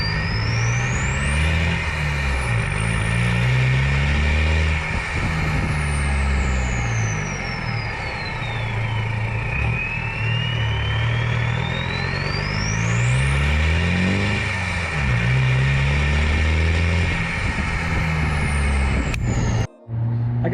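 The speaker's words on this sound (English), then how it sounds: "We'll do some clips of the exhaust too, so you can hear what it sounds like." Nissan Navara fitted with a 3-inch Rhino exhaust, the engine revving repeatedly with a deep, loud, rising and falling drone, close by and continuous for around twenty seconds before a brief cut near the end.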